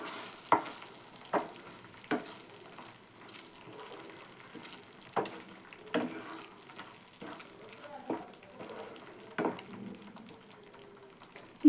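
Grated fresh coconut fries in oil in a pan with a faint sizzle, broken by irregular sharp scrapes and taps as it is stirred, close and moderately quiet.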